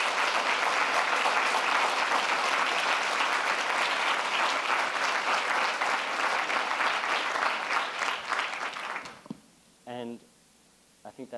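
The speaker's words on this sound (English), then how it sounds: "So maybe we could also have a round of applause for all of them." A large conference audience gives sustained applause for the event volunteers at a closing session, dense even clapping for about nine seconds that fades out before a brief voice follows.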